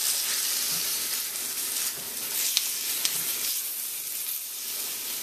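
Chicken livers with onion and garlic fry loudly in a pot, a continuous bright sizzle and hiss with a few scraping stirs and small pops breaking through.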